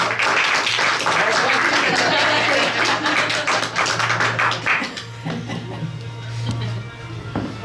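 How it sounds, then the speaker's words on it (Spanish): Live podcast audience clapping in welcome for a guest, a dense patter of hand claps that thins and fades toward the end, with a low steady hum beneath. "Por favor, un aplauso."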